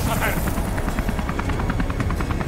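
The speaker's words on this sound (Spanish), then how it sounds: "Aquí está mi amigo el helicóptero." Helicopter in the video game Beyond: Two Souls, a loud rapid rotor thumping with a steady engine roar, close and continuous throughout.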